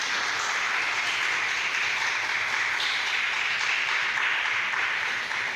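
Church congregation claps together in praise, a loud, dense and continuous wash of many hands sustained evenly without pause.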